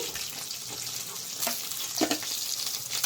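Rohu fish pieces fry in oil with a loud, crackling sizzle, broken by a few sharp spatters and stirring clatters.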